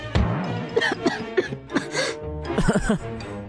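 Someone coughs and clears their throat over and over, close and loud, in a burst of short, choked hacks.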